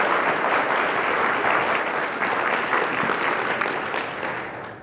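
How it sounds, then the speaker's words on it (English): An audience at a product marketing event claps for a speaker, a dense, sustained round of applause that holds steady and then begins to fade near the end. "let's give another round of applause for Priyanka"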